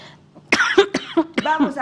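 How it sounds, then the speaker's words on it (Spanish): A few sharp coughs in quick succession, close and fairly loud, mixed with short bursts of voice. "vamos a toser y no pasa nada si tosemos fuerte"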